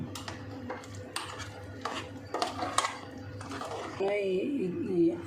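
Spiced puṇḍi (sorrel) greens for a North Karnataka palya are stirred in a pan, with a spoon clinking and scraping against the metal in irregular strokes while a person talks throughout.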